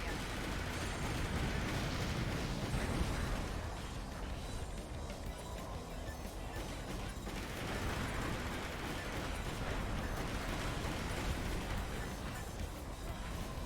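Armored Core 4 combat rumbles with continuous heavy explosions and gunfire, a dense roaring wall of blasts that swells and dips throughout without pause.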